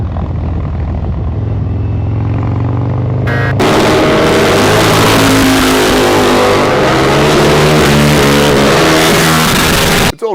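A Harley-Davidson motorcycle's old oil-cooled engine, emission controls removed, roars very loud and close, revving hard and then settling into a heavy, rumbling throb that fills the whole stretch without pause.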